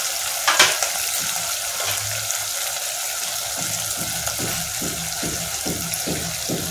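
Ginger garlic paste frying in a hot pan for prawn biryani, a steady broadband sizzle with a brief splutter near the start and repeated soft scraping stirs, close and continuous with no talking.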